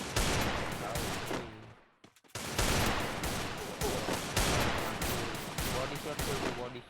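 Dense video-game gunfire, rapid overlapping bursts that fill the clip, with a short gap of near silence partway through, loud and close.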